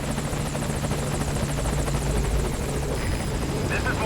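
Helicopter in the Metal Gear Solid V video game, a steady close rotor chop with rapid regular blade pulses and engine whine throughout, continuous and fairly loud with no talk over it.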